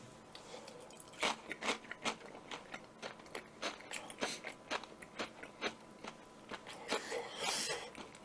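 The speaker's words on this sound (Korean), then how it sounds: "입을 벌리고 먹잖아요. 그럼 짭조름 소리가 많이 나고" Close, wet chewing and crunching of Burger King bulgogi burgers with the mouth open, a steady series of loud bites and smacks with no talking.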